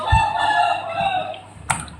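A rooster crows once up close, a loud drawn-out harmonic call that fades at the end, with a short sharp cluck just after and no talk.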